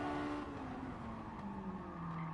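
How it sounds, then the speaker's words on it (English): A race car's engine in a racing video game, its harmonic drone steadily falling in pitch as it loses revs, heard continuously and moderately loud with no talk over it. "you can really hear by how much the engine dies down"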